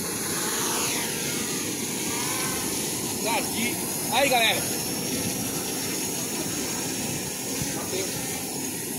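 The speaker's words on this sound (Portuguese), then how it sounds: "E eu vou acionar o drone aqui. O drone acionado. Vou levantar ele aqui." Propellers of a fishing drone spin up and lift off outdoors, a steady whirring hiss with a brief rise in pitch as it climbs, under someone talking nearby.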